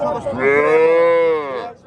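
A single cow gives one long, loud, close moo at a livestock market, rising and then fading over about a second and a half.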